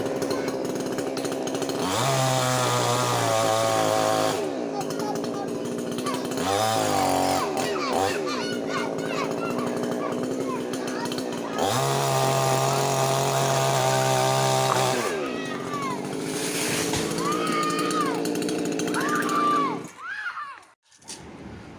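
A chainsaw cuts into a coconut palm tree in Kerala, its loud engine revving and bogging down as it bites, dipping and surging repeatedly over about twenty seconds before cutting out, with voices faintly audible beneath.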